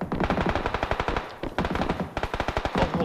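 Rapid automatic gunfire in the battle royale game PUBG rattles out in dense bursts, loud and close, with a brief pause between volleys and no talking over it.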